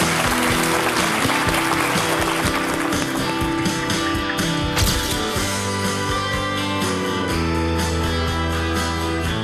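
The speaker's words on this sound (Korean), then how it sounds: "따뜻한 위로의 박수를 부탁드립니다" A studio audience on a Korean TV quiz show applauds in a dense, steady wash of clapping that holds for several seconds, with music playing beneath it.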